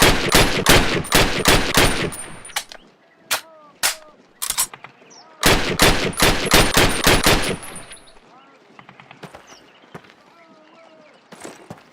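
Rapid rifle shots fired at a target on a training range in the World War II shooter Call of Duty, two sharp volleys of repeated close cracks with quieter single shots and a voice speaking between them.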